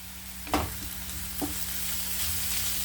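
Onions sautéing in a pan with green chili added, a soft continuous sizzle with two clear knocks of a spoon or ladle against the pan and a low steady hum beneath.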